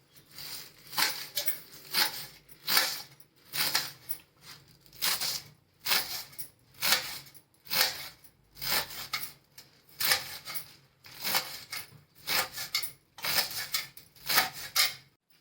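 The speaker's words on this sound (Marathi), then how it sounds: "अशी भाजी घ्यायची आणि ती बारीक अशी चिरून घ्यायची" A knife chops spring onion greens and garlic finely on a board in steady, evenly spaced bursts of quick strokes, close and crisp, with no talking.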